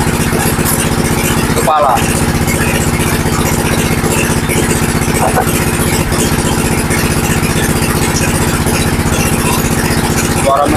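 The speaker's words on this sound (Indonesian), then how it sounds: "Suara mesinnya meraung." A vehicle engine runs loud and steady nearby with a low, constant rumbling drone and slight rattle throughout, while a voice briefly speaks over it.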